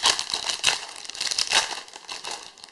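Foil packets of Champions League 2013/14 football cards being torn open, a steady close crinkling and rustling of wrapper with a few sharper rips, no voices.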